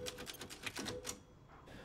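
A typewriter save-room sound from the game Resident Evil Village: a rapid run of crisp mechanical key strikes followed by a soft bell-like ding, heard alone at moderate level.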